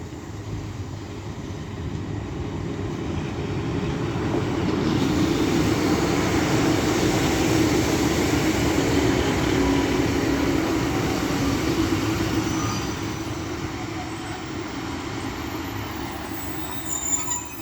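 A Northern diesel train, unit 15123, departs Castleton station with a steady rumbling roar of engine and rolling wheels. The sound builds to a peak midway, then eases off as the train draws away.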